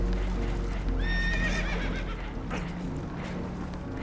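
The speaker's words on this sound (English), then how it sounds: "Horses are spooked" Spooked horses whinny in Red Dead Redemption 2, giving a loud, shrill neigh over a heavy, constant low roar of water and a boat, with hoof clatter in the background.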